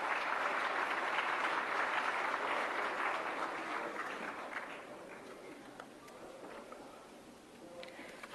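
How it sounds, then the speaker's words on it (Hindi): A seated audience at a national awards ceremony applauds to welcome a minister onto the stage, a dense, moderately distant clapping that holds steady for several seconds and then thins and fades toward the end. "तालियों से स्वागत करें माननीय मंत्री"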